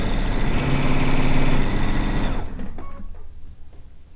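A sewing machine stitches quilt strips together for a Stone Log Cabin quilt, giving a loud, steady motor whir for about two seconds before stopping abruptly into quieter handling noises.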